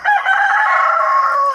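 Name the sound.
backyard chickens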